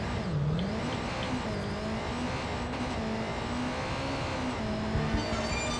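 Engine of a motorbike in Watch Dogs 2, droning steadily and rising slightly in pitch during a getaway, loud and continuous throughout with no pauses.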